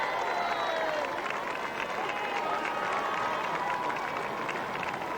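Dense crowd noise from thousands of spectators lining the 1984 London Marathon route near a bridge, a steady roar of cheering and applause throughout without letup.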